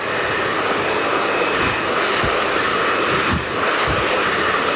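A hair dryer blows steadily and loudly on mid-length hair while a round brush works through it, the airflow wavering slightly with the nozzle's movement and a few soft brush scrapes underneath.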